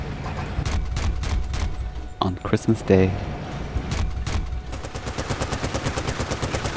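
Rapid automatic gunfire sprays in the shooter game Battlefield: Bad Company 2, with sharp repeated bursts that build into a steady fast rattle toward the end while someone talks over it.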